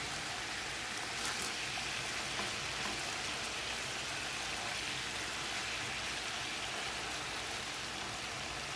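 Pieces of chicken fry in a pan for a spicy chicken curry, giving a steady, even hiss of sizzling oil with faint crackles throughout and no voices.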